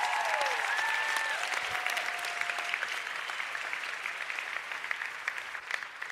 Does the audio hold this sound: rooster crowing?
no